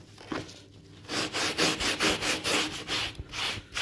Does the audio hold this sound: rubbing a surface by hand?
yes